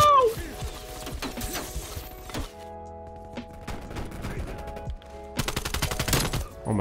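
An AK74u fires in the video game Call of Duty: Black Ops Cold War, loud rapid automatic bursts broken by short pauses, with mechanical clatter and in-game effects in between.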